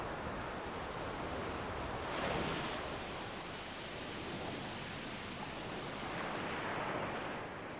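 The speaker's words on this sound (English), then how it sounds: "if you look closely at a wave when it breaks, you'll see that it washes sand up the beach" Waves breaking steadily on a sandy beach on the Holderness coast, a continuous loud wash of surf with two gentle swells of louder breaking, wind noise mixed in.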